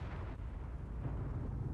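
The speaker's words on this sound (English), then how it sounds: "Explosions. More explosions." Explosions in the modded survival game ARK rumble as a continuous dense roar, heavy in the low end and steady throughout, fairly quiet overall. No talking is heard over them.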